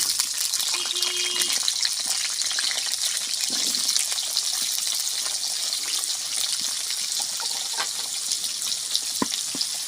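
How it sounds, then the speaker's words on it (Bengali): Potatoes frying in hot oil in a pan during home cooking of a Bengali rohu fish curry, giving a steady, loud, close sizzle throughout with no talking. "আলুগুলো আমি ভালো করে ভেজে নিই।"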